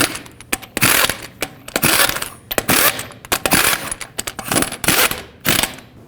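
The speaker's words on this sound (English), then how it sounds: "Put on all 6 of your lug nuts, and then in a cross pattern, torque them to 140 foot-pounds." Sharp metallic clicks and clatters come in separate bursts as a torque wrench tightens the six lug nuts of a GMC Yukon wheel to 140 foot-pounds, loud and close, with quiet pauses between the bursts.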